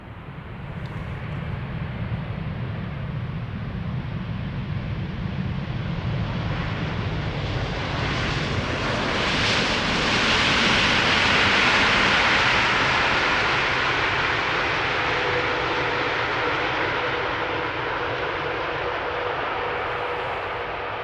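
KLM Boeing 787-10 Dreamliner arriving at Amsterdam Schiphol, a loud broadband jet roar swelling as it passes close by, then easing into a steady rumble with a faint tonal whine.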